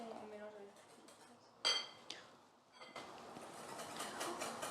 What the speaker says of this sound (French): On mélange avec le coulis de fraises.